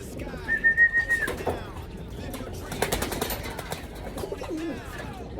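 Domestic pigeons cooing in a backyard loft, a clear nearby coo near the start followed by softer calls and flutters among rustling background noise.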